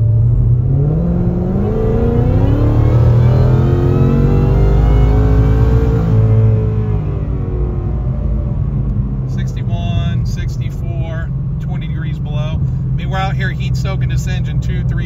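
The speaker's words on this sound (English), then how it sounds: "We're going to go wide open throttle." Supercharged Ford Mustang at wide open throttle, heard from inside the car as a loud, continuous engine roar climbing steadily in pitch through the gear, then a shift and a lower, sustained drone with whine and intake noise.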